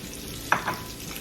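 A snapper fillet frying in a pan gives a soft, steady sizzle, with a short scrape or tap partway through and no one talking.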